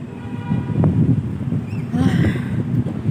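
Wind buffets the microphone in a continuous low rumble, with faint traffic-like hum and a brief voice underneath.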